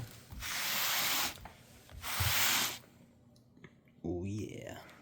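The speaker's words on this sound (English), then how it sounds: "Look at all this fur. We get to scrape all this up." Bunny fur is combed out of a carpet in two long, rasping scraping strokes close by, followed by a quieter pause before a person starts speaking.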